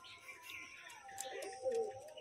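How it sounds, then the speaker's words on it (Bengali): A setting pair of pigeons coos softly and faintly, the low throaty calls swelling briefly near the end, with no voices. "পুরো মারাত্মক লেভেলের পায়রা। ডাকছে বাবা, ডাক করছে।"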